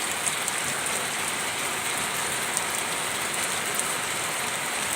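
Continuous rainfall hisses outdoors, a loud, uniform wash of drops with faint scattered ticks and nobody talking.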